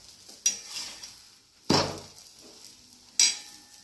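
An onion paratha made from wheat and jowar flour roasts crisp on a hot pan. A soft steady sizzle is broken by three sharp clattering hits of a spatula, spaced about a second apart.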